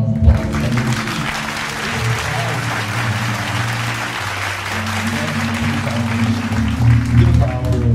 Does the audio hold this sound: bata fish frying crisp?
no